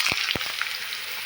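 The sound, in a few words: chayote squash frying in a pan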